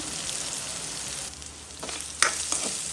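Curry leaves and onions sautéing in oil for a Tamil crab curry, a steady crackling sizzle with sharp spattering pops and stirring clatter toward the end, no talking.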